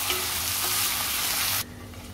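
Tomatoes drop into onions frying in a pan for a chickpea-spinach curry, giving a loud, dense, continuous sizzle that cuts off abruptly after about a second and a half and leaves quiet background.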